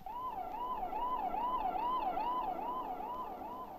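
An ambulance siren wails in a steady, looping rise-and-fall pattern at moderate distance, carrying on without pause over a low background hum with no voices.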